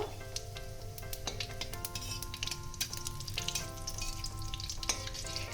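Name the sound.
black cumin, cumin, dried chilli frying in mustard oil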